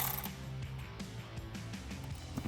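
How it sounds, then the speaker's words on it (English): An electric ratchet fitted with a 7mm socket loosens a clamp on an intake tube in a Bronco engine bay, giving a steady close mechanical whir with repeated clicking. "So I'm going to take my 7mm again on my electric ratchet."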